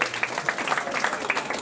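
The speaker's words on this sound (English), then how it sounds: "give Dan a round of applause" Audience at a magic show applauding a volunteer as he walks to the front, a steady dense patter of clapping from a live crowd throughout the short stretch.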